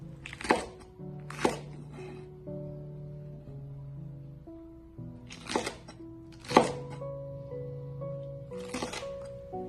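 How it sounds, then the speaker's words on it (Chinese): A knife dices green pepper into small cubes of about one centimetre on a cutting board, with sharp isolated chops in small clusters and quiet pauses between them. "接着再切成大约1公分左右的小方块"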